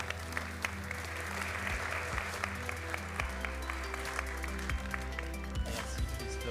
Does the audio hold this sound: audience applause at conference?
yes